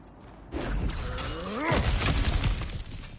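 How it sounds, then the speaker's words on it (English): Objects smashing and shattering during combat in the video game God of War Ragnarök: a loud, crunchy burst of breaking debris lasting a few seconds over a low, rumbling game background. "back to smashing through things for fun and profit"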